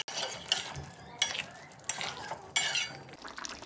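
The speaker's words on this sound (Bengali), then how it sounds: "সব কিছু ভালোভাবে মিশিয়ে নেব।" A spoon stirs garam masala into an egg and cauliflower curry cooked meat-style in a pan, producing a steady close sizzle with rhythmic scraping strokes, four distinct scrapes at roughly even intervals, and no talking.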